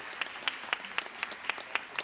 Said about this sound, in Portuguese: Também, por favor, palmas.